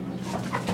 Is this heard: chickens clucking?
yes